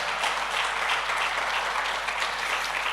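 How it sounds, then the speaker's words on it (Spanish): Congregation applauding in a church service, a steady dense wash of many hands clapping at even loudness throughout. "Dale el mejor aplauso a Él"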